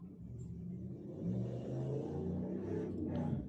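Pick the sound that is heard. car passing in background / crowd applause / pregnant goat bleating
car passing in background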